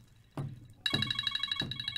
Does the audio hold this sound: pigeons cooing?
no